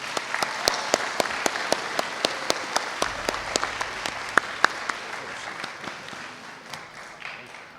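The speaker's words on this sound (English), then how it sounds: "Let's all give our recipients another round of applause." Sustained applause from an audience, many hands clapping in a dense, steady patter with a few sharper claps standing out, fading slightly toward the end.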